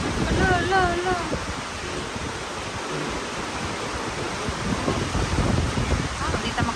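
Strong wind buffets across waterlogged countryside fields during a rainstorm, a continuous roaring rush with gusty swells, and a voice heard faintly at the start.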